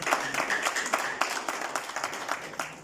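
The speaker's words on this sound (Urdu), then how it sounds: "آپ تالی بجا رہے ہیں" A congregation claps during an ordination sermon, producing uneven bursts of hand claps that rise and fall in a loose rhythm, close and moderately loud.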